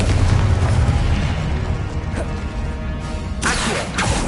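The Confringo blasting curse in Hogwarts Legacy, a heavy low boom that opens loud and rolls off, followed by sharp crackling bursts and debris near the end.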